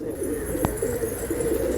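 Pigeons coo steadily in a low, continuous murmur at a loft where birds are flown, with a brief sharp click partway through and no talk.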